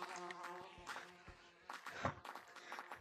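Angry bees buzz in a video game bee chase, a faint, wavering insect drone with rising and falling swells and a few soft thuds, heard alone without talk.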